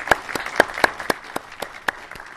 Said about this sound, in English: I want to give a round of applause to the Cherryland Community Association